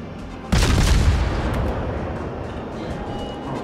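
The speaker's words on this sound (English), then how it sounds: "Shots fired. Fire for effect." A warship's heavy guns fire in World of Warships, one sudden loud boom at the half-second mark that rolls on into a long rumbling decay, with no other sounds.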